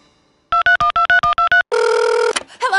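A telephone number is dialed as eight quick, evenly spaced touch-tone beeps, then a longer steady ringing tone, loud and clear.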